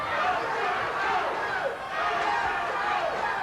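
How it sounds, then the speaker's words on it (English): A wrestling crowd at a 1990 Texas Championship Wrestling event chants and cheers steadily in a large hall, a dense roar of voices with a rhythmic chant rising over it. "the crowd's coming up with "Let's go,"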